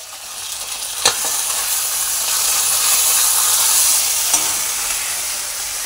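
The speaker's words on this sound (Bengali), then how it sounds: "কালো জিরে ফোড়ন দিয়ে কেটে রাখা পেঁয়াজগুলো ভেজে নেব" Sliced onions fry in hot oil with nigella seeds, giving a continuous close hiss and sizzle broken by a couple of sharp clinks from a utensil stirring the pan, with no voices.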